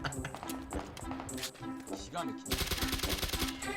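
Bursts of gunfire in the video game PUBG Battlegrounds, sharp repeated shots mixed with footsteps and game effects, heard under excited talking.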